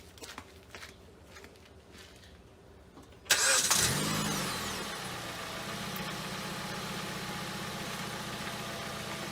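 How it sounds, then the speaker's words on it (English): A Jeep Patriot engine cranks and catches with a sudden loud burst after a few quiet knocks, then settles into a steady mid-pitched idle, heard close with no talking. "So let me go turn on the car."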